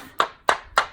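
Black embossing powder tapped off a card: three sharp, evenly spaced knocks in quick succession, close and dry, with silence between them.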